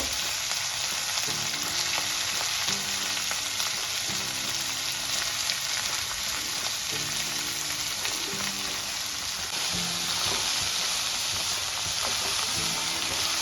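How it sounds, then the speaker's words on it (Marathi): Fenugreek leaves frying in oil with chili and garlic, a loud, steady hiss and crackle of sizzling that runs throughout without a break, with faint rhythmic thumps underneath. "आता मिरची आणि लसूण तेलामध्ये अगदी चांगला भाजलेला आहे। आपण त्यामध्ये आता मेथी टाकून घ्यायची।"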